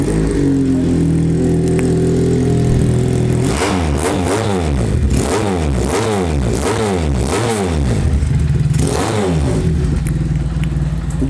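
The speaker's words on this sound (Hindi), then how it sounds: "250 cc से आपको साउंड टेस्ट भी इसका करवाते हैं।" A 250 cc twin-cylinder motorcycle engine idles with a low thrum, then is blipped through several sharp revs that rise and fall in quick succession, followed by a final rev, loud and close.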